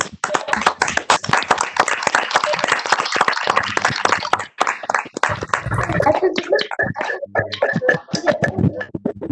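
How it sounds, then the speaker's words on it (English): Participants on an online video call for a youth induction program's final session clap together, dense scattered hand claps across the whole span, fairly loud and thinning into sparser claps toward the end. "share a wide range of applause as a mark of respect to our madam"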